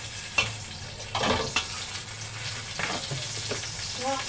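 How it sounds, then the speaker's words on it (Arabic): Ghee hitting a hot, dry cooking pot sets off a steady, close sizzle and spit, with a few louder crackles and the clink of utensils over the frying hiss. "ادي الحله بتاعتي نشفت اهيت، فانا هحط بقى ايه السمنه"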